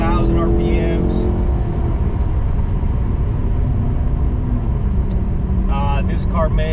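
A 2014 Maserati GranTurismo accelerates hard on an open highway, its engine loud and close with a rising, sustained roar and dense road rumble, and short bursts of harmonic engine tone at the start and end.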